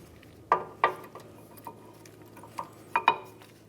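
An outer brake pad is fitted into the caliper of a 2006-2011 Honda Civic, producing several sharp, close metallic clicks and clinks spaced irregularly against a quiet background.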